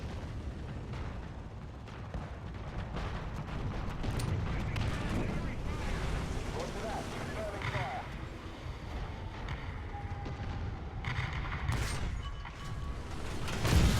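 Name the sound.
mortar strike explosions in the video game War Thunder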